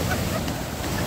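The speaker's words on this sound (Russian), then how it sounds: "Волна опасная штука, да?" Sea waves wash onto a crowded beach, a steady broadband rush of surf and wind filling the short moment at moderate loudness.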